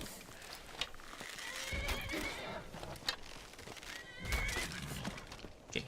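A horse whinnying in the game Skyrim during combat, two drawn-out neighs with hoof clops and thuds around them, moderately close, with faint background game noise.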